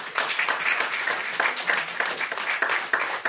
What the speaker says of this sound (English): Somebody give God a hand clap in here over there.